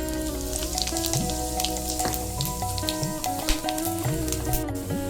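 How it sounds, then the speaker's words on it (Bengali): Steady, crackling sizzle of whole spices frying in hot oil left from frying eggs, continuous and close, with light clinks and stirring scrapes scattered through it. "সেই তেলের মধ্যে আমি ফোড়নগুলো দিয়ে দিলাম"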